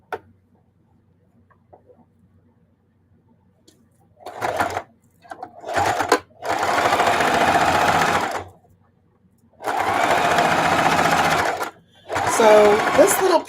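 A sewing machine stitching a Christmas table runner runs in several steady bursts of a few seconds each, loud and close, with short starts and quiet gaps between.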